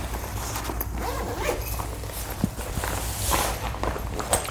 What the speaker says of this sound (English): let me unzip it, and we're going to take out the one that's in here